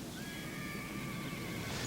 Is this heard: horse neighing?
yes